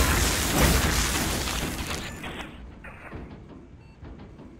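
A turbine is destroyed in the Shadow Complex video game: a loud, broad crashing boom with mechanical rumble that slowly decays and thins out over several seconds.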